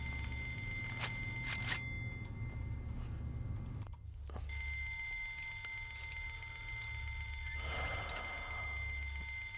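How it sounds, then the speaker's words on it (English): An annoying electric bell rings continuously in the game Fallout London, a shrill sustained ringing that cuts out briefly near the middle and then resumes. "That is a really annoying bell!"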